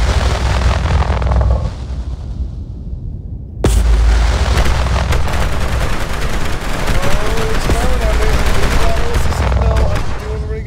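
Rapid weapon-fire volleys and booms from space combat in the game Limit Theory, a dense loud barrage of bursts that cuts out briefly, then resumes as continuous crackling gunfire and explosions.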